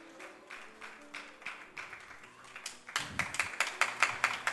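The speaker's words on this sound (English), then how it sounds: "Let's give them a round of applause" Church audience at a Christmas carol night claps for a teenage church group, sparse scattered claps at first building into louder, denser applause near the end.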